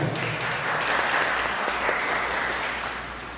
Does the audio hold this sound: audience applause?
yes